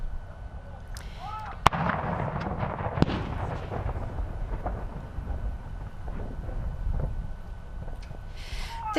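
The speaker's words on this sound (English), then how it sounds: "now with the gun salute in the distance" Ceremonial gun salute at an Australia Day flag-raising ceremony, distant booming reports with rumbling decay, several thuds rolling under outdoor crowd ambience and faint voices.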